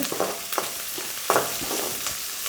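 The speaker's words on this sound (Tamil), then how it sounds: "சேர்த்து மூணை நல்லா மிக்ஸ் பண்ணிவிட்டு எண்ணெயில் வதக்கி விடுறேங்க" Garlic and onions sauté in hot oil, giving a steady close sizzle with a few stirring scrapes and clicks over about two and a half seconds, with no voices.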